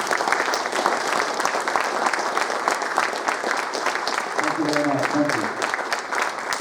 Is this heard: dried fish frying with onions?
no